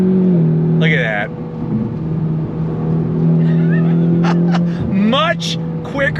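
A 2024 Ford Mustang EcoBoost accelerates on throttle, its engine drone steady and loud from inside the car, shifting pitch as it changes gear, with people talking over it throughout.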